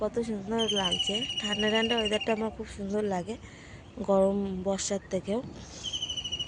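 Birds call outdoors on a cool, clear day, their thin high chirps running faintly under a woman's near, steady talking.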